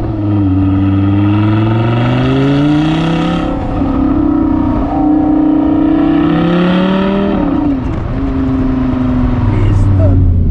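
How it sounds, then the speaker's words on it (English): An Audi R8 V10 Plus with a manual gearbox accelerating on a damp road near a village, its loud exhaust rising in pitch through several gears in long sweeps, with someone talking over it. "This is enraged exhaust."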